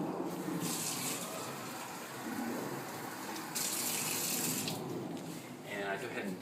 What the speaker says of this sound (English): Then get 1 cup of water.